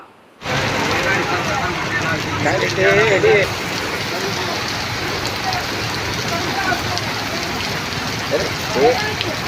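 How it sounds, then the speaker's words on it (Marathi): Heavy rain pours steadily over Solapur city in the evening, a dense continuous hiss of water hitting surfaces with faint distant sounds mixed beneath. "आज बुधवारीच पावसाच्या सरी सोलापूर शहरात कोसळल्या"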